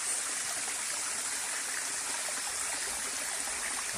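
River water flows steadily and close by, a constant full rushing and babbling with no talk over it.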